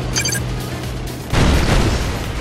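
Naval guns on a ship in the strategy game Red Alert let off a heavy boom that swells into a loud, rumbling blast midway through, following a brief, tinny electronic chirp.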